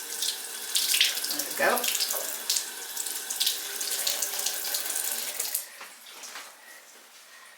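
Hot tap water runs steadily into a sink as canning jars are rinsed, with hollow glassy clinks and splashing shifts as jars are moved under the stream; a brief voice speaks near the start.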